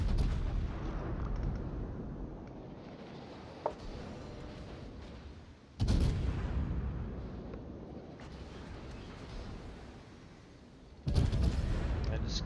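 A Des Moines cruiser's naval guns fire in a warship video game, with heavy booming salvos at steady intervals over a low rumbling background while someone talks.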